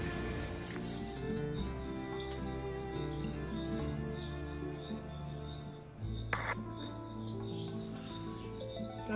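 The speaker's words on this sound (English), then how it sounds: "And there's a couple of grasshoppers." Grasshoppers chirp in a steady high trill outside a balcony of an ocean-view resort suite in Cayo Coco, Cuba, set against a low, constant tonal hum.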